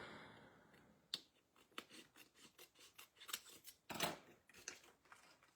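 Scissors snip plastic trimmed to fit a homemade gift box, a series of crisp, close cuts in an irregular rhythm, alone without talk.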